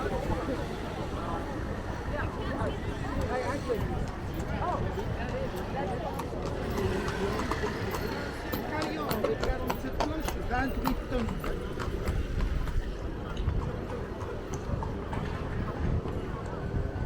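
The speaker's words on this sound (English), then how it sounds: "some places these horse-drawn carriages don't look too good, but these seem to be well taken care of" Horse-drawn carriages in Bruges Market Square, with steady hoof clip-clops on cobbles mixed into busy outdoor crowd noise, as someone talks over the scene.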